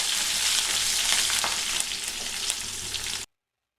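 Green chillies and a generous handful of curry leaves fry in hot oil as a tempering for a banana flower and bean kuzhambu, giving a close, continuous crackling sizzle that stops abruptly.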